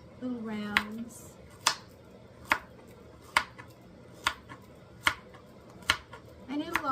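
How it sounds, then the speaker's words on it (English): Small carrots sliced into little rounds with a knife on a cutting board: eight crisp, evenly spaced chops, close and clear, with a brief voice at the start and end. "The carrots are small, and so I just chop them in little rounds."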